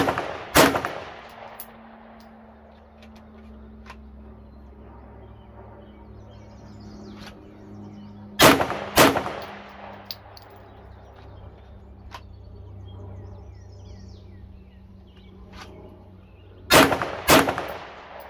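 A Glock pistol fired while drawing from a holster: loud, sharp shots in three separate bursts of one to two rounds, spaced several seconds apart, with quiet ambience and faint birdsong between them.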